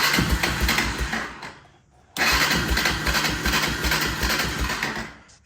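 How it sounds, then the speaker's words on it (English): Honda 300ex ATV engine cranking and catching, a brief burst that dies after about two seconds, then a second start that runs rough and steady near the mic, no talking. "let's try to fire this thing up again and see if it'll idle this time with that extra back pressure."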